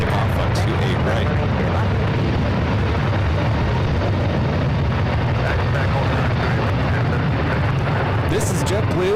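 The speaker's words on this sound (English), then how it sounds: "This is JetBlue 1734 taking off to Boston on the A321neo." A JetBlue Airbus A321neo airliner takes off at San Francisco International Airport, bound for Boston: a loud, steady, broad jet roar fills the whole stretch without letting up.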